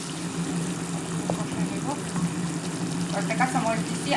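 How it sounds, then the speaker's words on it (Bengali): Chopped onion and garlic fry in hot oil, giving a steady, continuous sizzle close by, with a low background hum underneath and faint voices at times. "এখানে আমি পেঁয়াজ আর রসুন কুচি নিয়ে দিয়ে ভেজে নিতেছি"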